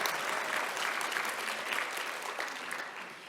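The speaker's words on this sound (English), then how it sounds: "please give her a round of applause" Audience at a NAMI conference afternoon session applauds steadily, with dense, even clapping from a sizable crowd, somewhat distant and soft, tapering slightly at the end.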